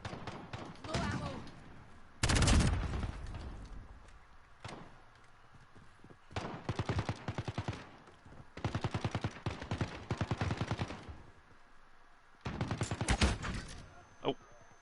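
Rapid automatic gunfire in the video game Call of Duty: Modern Warfare, heard as several separate bursts of loud rattling shots with quieter gaps between them and a single boom early on.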